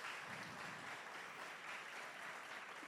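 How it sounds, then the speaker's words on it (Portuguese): A church congregation applauding visitors during a Brazilian evangelical service, a very faint, distant, steady wash of clapping throughout. "Vamos aplaudir aí os nossos visitantes."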